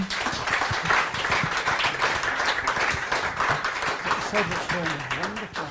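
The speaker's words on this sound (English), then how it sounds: "Another round of applause, please, for our panelists." A lecture audience gives a round of applause for the panelists at the close of a panel, dense steady clapping that runs throughout with voices faintly beneath it.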